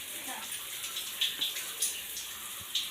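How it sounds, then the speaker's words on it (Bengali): Someone bathing, with water running steadily and soft splashes and drips breaking through at intervals. Fairly faint throughout, with a quiet voice murmuring in the background. "এখানে স্নান করছে এখন, কত সুন্দর দেখো, কি সুন্দর স্নান করছে।"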